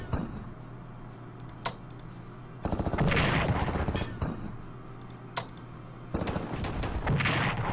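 Gunfire from the Strategic Command World War II strategy game as Allied units attack Romanian forces, with repeated bursts of crackling shots and rumble over a steady background hum.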